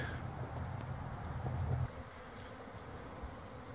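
Honeybees hum around spring hives in an apiary, a soft, continuous low drone with occasional nearer buzzes passing close, faint outdoor background and no talk.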